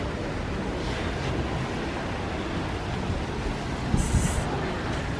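Surf washing onto a beach in Jamaica, a steady broadband roar of breaking waves with wind across the microphone and a slightly louder wash near the end.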